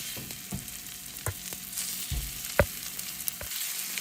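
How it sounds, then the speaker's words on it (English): Salmon sears in an oiled pot for salmon pasta, with a steady close sizzle, a few scattered stirring clunks and one sharp knock partway through, and no voices. "let's start adding the salmon here, guys"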